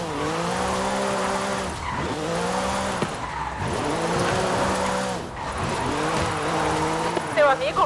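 A Volkswagen Beetle drifts in Forza Horizon 5, its racing engine revving in rising sweeps between gear shifts while tires squeal and skid, loud and continuous, with a person talking over the gameplay.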